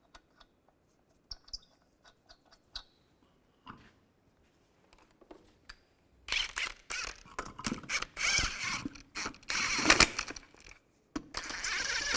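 Ratchet clicks in short bursts while lug nuts are run onto a Chevrolet Cobalt wheel, first sparse and quiet, then a dense, louder stretch of rapid ratcheting and metallic creaks close by.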